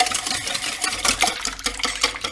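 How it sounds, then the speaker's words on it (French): Whisk beating eggs, sugar and lemon juice in a bowl for a lemon meringue tart, quick rhythmic scraping and tapping strokes, close and steady, with no voices. "Mélangez au fouet jusqu'à ce que la préparation soit homogène."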